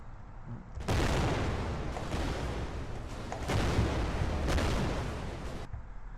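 A sustained, roaring video game explosion effect in a first-person shooter rumbles for several seconds with no voices, swelling in two loud bursts before tapering off.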